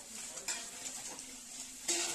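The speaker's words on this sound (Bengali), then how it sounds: "নাড়াচাড়া দিয়ে যতক্ষণ না ভাজা হচ্ছে ততক্ষণ দেখতে হবে" Vegetables, including aubergine and potato, sizzle in a pan while a utensil stirs them, with a few sharp scraping clinks against the metal.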